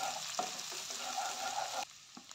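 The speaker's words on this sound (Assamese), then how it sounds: "এতিয়া এইখিনি অকণমান ৰঙচুৱা হোৱালৈকে ভাজিব লাগিব" Bay leaf, a chili and finely chopped garlic fry in a pan with a steady, close sizzle, broken by a few soft stirring scrapes before the sound abruptly drops off near the end.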